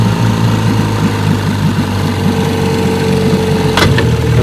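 A 1957 Johnson AD-11 7.5 HP outboard motor idles steadily and loudly with an even, fast putter, close up, with a brief sharper click near the end.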